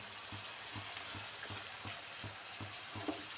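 Masala fries in oil in a pan for mushroom gravy, a steady soft sizzle with a regular low thumping or stirring pulse about every half second, no talking.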